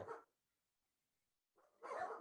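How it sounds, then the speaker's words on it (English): Dogs barking at a neighbor knocking on the door: one short bark burst, a pause of silence, then a longer cluster of barks, faint and somewhat distant. "you can hear his dogs in the background barking because a neighbor knocked on the door"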